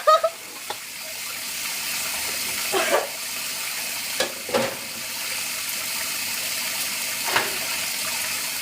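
Water runs steadily from a tap with occasional clinks and splashes as dishes and pots are washed nearby.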